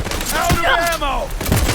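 Gunfire in Cyberpunk 2077 crackles in quick bursts and single shots under a busy mix of synthetic whooshes and voices, loud and close throughout the short stretch.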